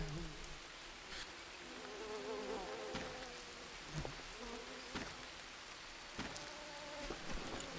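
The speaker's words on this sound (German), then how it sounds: "Ach, scheiß Bienen da oben." Bees buzz in the jungle survival game Green Hell, a soft, steady insect drone under a few sharp clicks and taps, with no talking.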